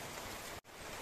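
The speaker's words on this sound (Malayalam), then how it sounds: "മഴയുണ്ട്." Rain falls steadily outside, a dense, even hiss of drops filling the short stretch, interrupted by one brief cut near the middle, with no voices.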